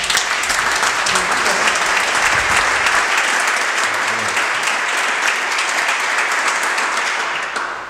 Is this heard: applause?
yes